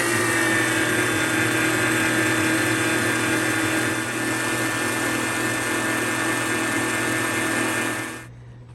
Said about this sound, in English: We're going to turn on the whisk and slowly add the stream of the hot cream to the egg mixture.